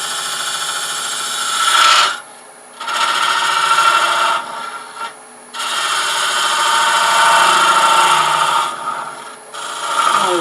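Hunter carbide tool cutting wood on a lathe while turning a hollow form, a loud, close whirring scrape in long passes broken by short pauses, with no talk.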